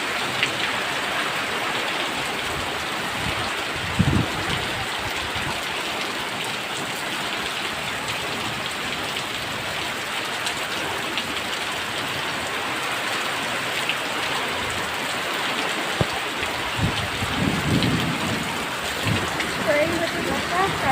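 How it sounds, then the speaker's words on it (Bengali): Heavy rain pours down steadily in a continuous hiss, with a few low rumbles that could be distant thunder mixed in, while a voice talks intermittently over the downpour. "ঝড় হচ্ছিল, এখন বৃষ্টি হচ্ছে।"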